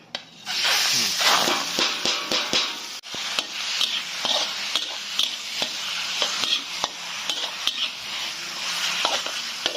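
Duck meat sizzles and spits steadily in hot rendered duck fat with garlic, with frequent sharp scrapes and clacks of a utensil stirring the pan.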